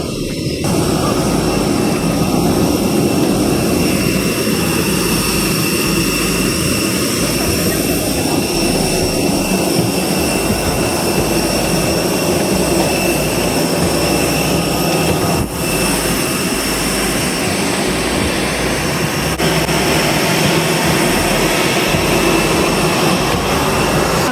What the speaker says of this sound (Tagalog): sakay na tayo ng aeroplano